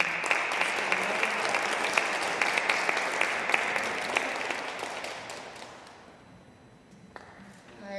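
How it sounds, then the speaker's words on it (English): An audience in a Presbyterian church applauds warmly with dense, steady clapping that gradually thins and fades out, followed by a few scattered claps. "give a warm round of applause for Vanetta White"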